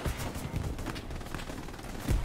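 Shooting in the Hell Let Loose video game: a brief run of loud, sharp gunshots and muffled pops over a couple of seconds, with one heavier, closer thump near the end.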